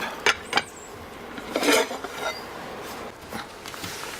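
An omelette is flipped in a pan on the stove, giving a few sharp metallic clinks of pan and utensil, one stronger scrape and clatter in the middle, then quiet sizzling between soft taps.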